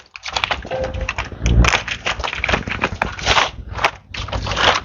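Young mango tree branches being snipped during pruning, a steady run of close, crisp crackling cuts and rustles, dense and continuous with brief pauses.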